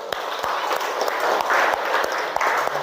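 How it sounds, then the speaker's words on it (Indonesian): Group of participants in a classroom coaching session clapping together, a fairly close burst of hand claps with distinct sharp individual slaps over a brief spell, with faint murmurs in the background. "Tepuk tangan dulu."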